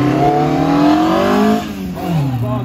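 A Toyota GT86 engine revs hard as the car accelerates, the pitch climbing steadily, then easing briefly before rising again, loud and close.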